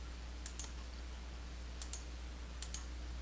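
A computer mouse clicks quietly in three quick pairs, close by, with near silence in between.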